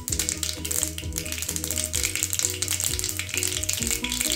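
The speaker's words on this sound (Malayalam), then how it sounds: "നമുക്ക് കടുകൊന്ന് പൊട്ടിച്ചെടുക്കാം" Mustard seeds sizzle and crackle in hot coconut oil for a Kerala fish curry, a loud continuous fry with rapid scattered pops close up and no talking.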